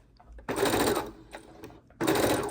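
A sewing machine stitches quilt pieces together, running in two quick close bursts of rapid whirring with a short pause between.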